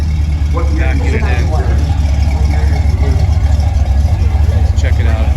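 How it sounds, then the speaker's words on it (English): A classic car engine runs steadily at a collector car auction in Palm Springs, a loud, continuous low rumble under crowd chatter and nearby voices throughout. "It's always fun to hear the cars running."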